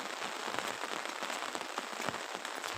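Rain pours down in a village, a steady hiss of drops pattering on surfaces close by, with scattered louder splats rising now and then through the constant wash.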